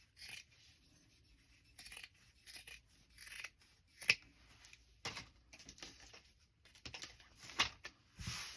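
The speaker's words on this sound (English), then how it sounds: "I'm going to cut this part that's already sewn" Scissors snip through sewn tapestry fabric for a journal cover in a series of quiet, separate crisp cuts with pauses between, close by and alone.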